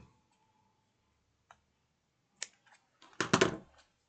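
Scissors cut an elastic band in a quiet craft setting. There are a few faint clicks, then a brief cluster of snipping sounds near the end.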